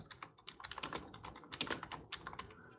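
Rapid, uneven typing on a computer keyboard while writing Python code, a dense run of close, crisp key clicks with brief pauses.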